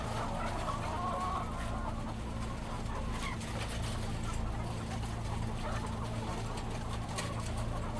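Many laying hens cluck and murmur continuously in a crowded, dirty barn, a dense layered chorus with a low steady ventilation hum beneath and no speech.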